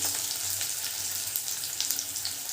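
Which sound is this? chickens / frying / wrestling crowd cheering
frying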